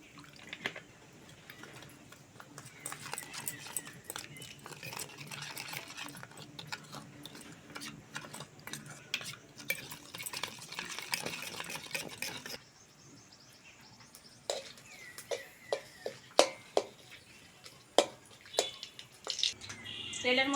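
Water is poured from a small amount into a bowl of whole garam masala, cumin paste, salt, turmeric, chili powder and sugar while jackfruit cooks in a kitchen, a soft running splash followed by scattered drips and clinks.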